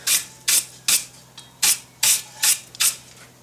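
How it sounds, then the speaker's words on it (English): A wire brush scrubs a forged steel drink spike in about eight brisk, evenly spaced strokes, each a short bright rasp, close and loud in a quiet workshop. "I'm going to give this a bit of a brush off"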